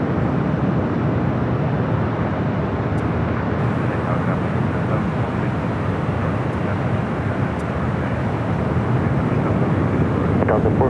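A jet airliner comes in to land on runway 24 right at Los Angeles International Airport, a loud continuous roar with wind noise that holds steady for the whole stretch, no voices.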